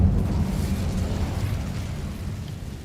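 Fiery spell blast from an Incendio cast in Hogwarts Legacy, a broad rumbling burst that stays loud and dense for about three seconds with no voices over it.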